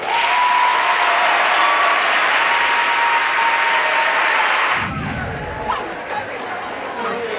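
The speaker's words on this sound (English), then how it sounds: "a huge round of applause for Tunbridge Grammar School" Loud audience applause for the Tunbridge Grammar School choir at a choir semi-final, sustained for several seconds before cutting off, followed by quieter room sound and talk.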